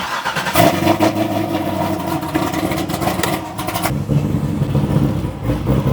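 A Corvette engine in the 2000 hp Waylon 2.0 build runs close by at a loud, steady, rumbling idle with a brief throttle change midway. No voices are heard.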